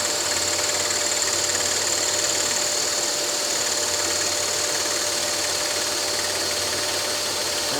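A scroll saw blade reciprocates rapidly through wood while cutting a spiral for a magic wand, a steady buzzing hum with a faint constant whine, continuous and close with no pauses.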